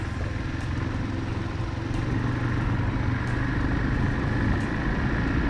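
A Yamaha off-road motorcycle engine runs steadily on a mountain trail in Japan, a close continuous rumble with occasional clatter and no talking.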